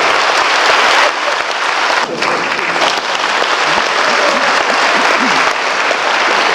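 Sustained applause from a large audience at a Tatarstan Republic culture days event in Moscow, dense and steady clapping filling the hall throughout, with no voices on top.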